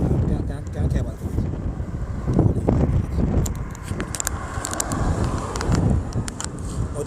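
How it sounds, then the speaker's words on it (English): Strong wind buffets the microphone on a fishing trip off Jamaica, a steady loud rumble with gusts rising and falling throughout, mixed with faint water and boat noise. "Very windy, not pretty. It's an ugly wind."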